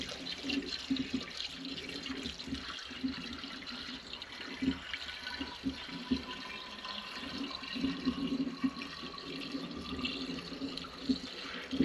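Water splashes and trickles steadily into a fire-fighting water pump being primed outdoors in rural central Portugal, a continuous low, faint pouring sound with small gurgles and no talk.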